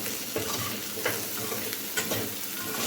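Spices such as red chilli powder and coriander-cumin powder being stirred into ivy gourd curry in a pan, with repeated spoon scrapes over a continuous sizzle.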